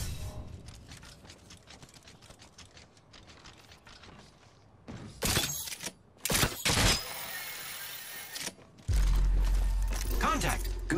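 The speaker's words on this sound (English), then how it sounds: "I am taking fire." Bursts of gunfire in the Apex Legends video game, several clustered loud volleys with mechanical clatter, heard under in-game voice lines and other game sounds.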